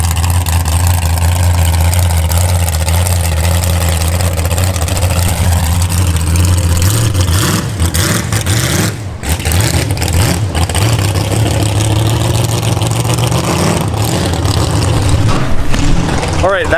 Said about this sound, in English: it seems that there's a very big, loud engine